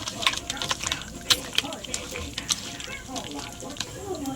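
Ground mustard-poppy paste with turmeric is mixed by hand beside a wok of heating oil, giving close, irregular wet scraping and sharp clicks with a faint sizzle underneath.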